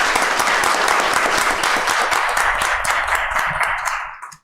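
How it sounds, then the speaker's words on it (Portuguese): Sustained applause from people at a city council session, loud and dense clapping holding steady for about four seconds before stopping abruptly. "Dê uma salva de palmas para o senhor Francisco."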